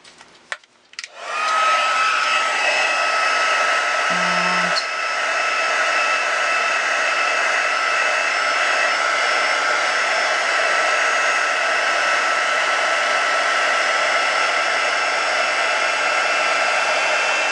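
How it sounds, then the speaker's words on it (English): A heat tool blows a steady, loud whooshing drone while heat setting gold embossing powder on acetate card, starting after a few brief clicks and running continuously to the end. "And we will heat set this."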